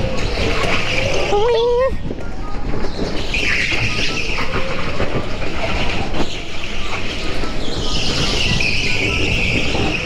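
Indoor go-karts at a TeamSport track in Crawley race and drift, their steady engine drone and tyre squeals running loud and constant throughout, with a sharp squeal near the start and people talking over the noise.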